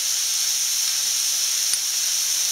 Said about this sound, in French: on laisse mijoter, on baisse un tout petit peu le feu